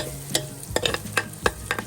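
Garlic going into hot oil in a pan, with a steady low sizzle and a handful of sharp scraping stirs from a utensil, close and fairly quiet.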